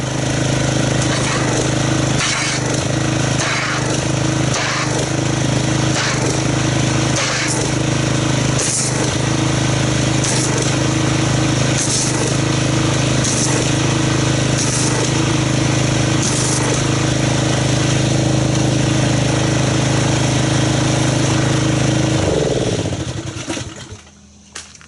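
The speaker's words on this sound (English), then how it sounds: "So let's get our pressure washer and see what kind of foam we get." Loud steady engine-driven pressure washer drone with repeated spray bursts while foaming Walmart Clean Series car soap onto a car, running continuously before cutting off at the end.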